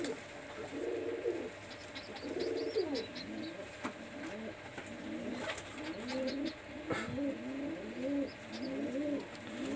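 Pakistani high-flyer pigeons coo in a loft, with rolling, throaty phrases repeating steadily and close by over low background hum, and faint chirps above them.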